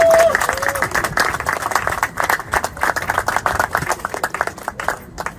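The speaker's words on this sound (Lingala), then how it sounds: "je vous demande d'applaudir" An audience applauds a church-affairs director at a public gathering, dense steady clapping throughout with a voice briefly over the start.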